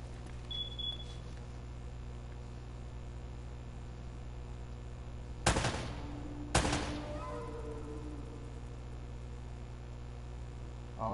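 Two sharp gunshots in Uncharted: Drake's Fortune, about a second apart and loud against a steady low hum, each followed by a short ringing tail.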